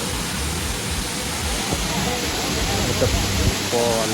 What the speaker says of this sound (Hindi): यहाँ पर सिर्फ वाटरफॉल है, ये है वाटरफॉल